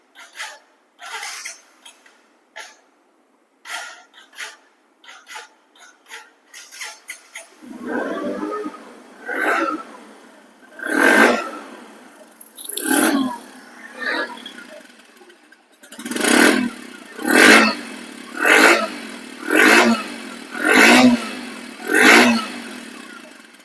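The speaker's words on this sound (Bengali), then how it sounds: "রানিং অবস্থা আছে দেখেন বাইকটি রানিং অবস্থা আছে তারপরে সাউন্ডটা কত মিষ্টি দেখেন" A 2022 Bajaj Discover 110cc motorcycle engine, second-hand, starts with short repeated cranking bursts, then catches and revs in a series of rising blips close to the listener, with no talk over it.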